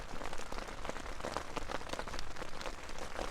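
Rain patters on a Night Cat tunnel tent while camping in the Peak District, a dense close crackle of drops on fabric, steady and fairly loud with no voices.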